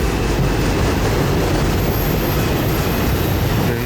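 CSX freight train 457, led by locomotives 7029 and 3342, passes close by at Lakeland with a loud, continuous roar of rolling wheels and railcars and no voices.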